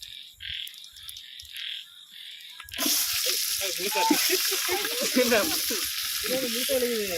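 Onions drop into hot oil outdoors at night in a village, setting off a sudden loud, sustained sizzle. Before that come quieter clinks, and people talk over the frying.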